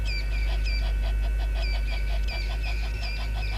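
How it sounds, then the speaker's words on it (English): Noisy birds call near a dam in the South African bush, repeating bright rhythmic chirps and whistles at a moderate distance over a low, steady background rumble. "The noisiest birds in the bush"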